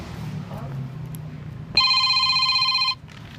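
A telephone line rings once in a radio drama, a bright, steady electronic ring lasting about a second, heard right after a stretch of talking.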